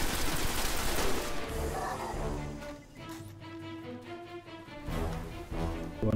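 Rapid gunfire and explosions from the video game Destiny crackle in bursts, loud and dense at first, thinning into ringing tonal game effects before another burst, with no voice over it.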